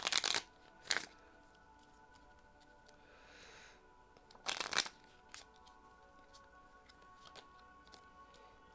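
A tarot deck is shuffled in a few quick riffling bursts, with a softer slide and scattered small taps between them, all close and otherwise quiet.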